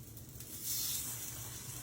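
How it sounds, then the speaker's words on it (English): Salmon patties sizzle steadily in a hot pan, a close, continuous hiss and crackle with no talking. "You want to hear that sizzle?"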